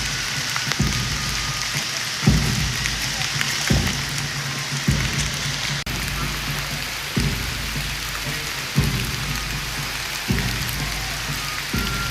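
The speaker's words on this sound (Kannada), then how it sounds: "ಮಳೆ" Steady rain hissing on surfaces at a government college in Tumakuru, with dull thumps recurring every second or so underneath the constant wash of noise.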